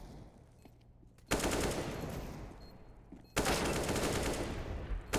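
Rapid Desert Eagle pistol gunfire in a Counter-Strike esports match, loud dense bursts of shots that cut in abruptly, then a second burst after a brief lull.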